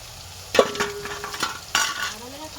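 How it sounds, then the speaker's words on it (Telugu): Chana dal goes into cooked tomatoes in a pan and is stirred, giving two short bursts of close spoon clatter and scraping over a light sizzle, with a brief squeak. "ఇప్పుడైతే నేను పప్పు వేస్తున్నాను అనమాట."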